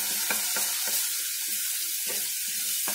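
Asafoetida and ginger-garlic paste sauté in hot oil in a kadhai until brown for chhole: a steady high sizzle broken by regular scraping strokes of a stirring spoon, close and continuous.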